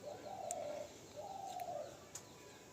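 A male Teddy pigeon, also called a King Teddy, coos twice in a loft, each call a soft, drawn-out note, with a few faint clicks and chirps at the edges.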